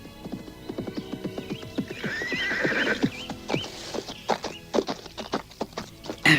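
Horse neighing over the rhythmic clip-clop of hooves, an audio drama effect: steady hoofbeats throughout with a loud whinny rising in the middle, close and clear, with no speech.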